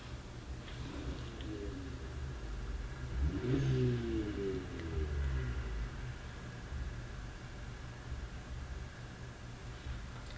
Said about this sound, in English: Not only do I have heavy traffic right now